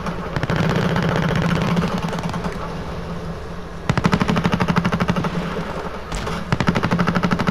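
M1 Garand rifle gunfire in Call of Duty Modern Warfare, fired without a stock at a 20-meter range: three loud, rapid strings of evenly spaced sharp reports separated by short pauses.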